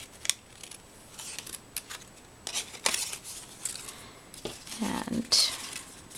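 Scissors snip through Christmas banner material in a run of short, crisp cuts with small pauses between them, close by and fairly quiet, with occasional rustling of the material.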